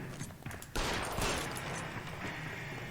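Rapid gunfire bursts from the LA Noire video game, a dense fusillade breaking in sharply and continuing in a steady rattle for a few seconds.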